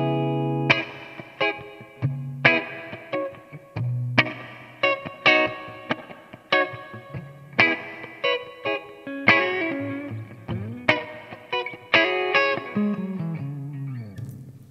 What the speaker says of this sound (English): Let's start off with a spring reverb.